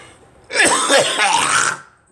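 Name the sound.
person coughing and clearing throat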